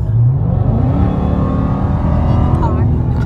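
A Mazda CX-5 Turbo Carbon Edition engine revs and pulls hard, a loud, steady drone with a rising pitch that stays close throughout.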